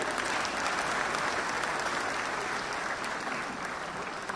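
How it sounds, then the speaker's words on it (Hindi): An audience claps in a sustained, dense round of applause at a national film awards ceremony honoring action direction, steady and fairly loud throughout with no talk over it. "थोड़ा तालियों के रूप में ही एक्शन हो जाए।"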